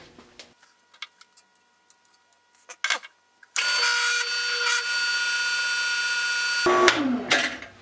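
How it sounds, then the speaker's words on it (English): After a few scattered clicks and taps, a drill with a new hole saw starts up and runs steadily with a grinding, whining hum as it cuts steel, then slows and stops. "I'm gonna take my time feeding into the steel, because the last thing I want to do is roast the brand new hole saw"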